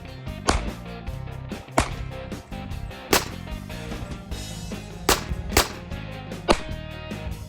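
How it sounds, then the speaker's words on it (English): Several sharp gunshots from about three different guns being fired in turn outdoors, roughly six loud cracks spaced a second or so apart, each with a short ringing tail and no talking in between. "There was 3 different guns or so that we were just switching off and trying them all."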